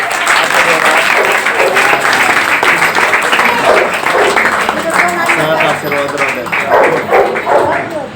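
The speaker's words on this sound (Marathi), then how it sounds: "कडाडून टाळ्या चालू राहू दे." Audience applause at a children's shloka recitation competition in Barshi, with loud, dense clapping that carries on steadily for the whole stretch.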